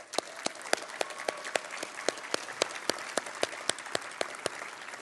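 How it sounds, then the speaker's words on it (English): Applause from a conference audience at a Drupal event in Portland, greeting newly graduated program members: steady, dense clapping with sharp individual claps standing out throughout, fairly close and continuous for the whole stretch. "let's give a round of applause."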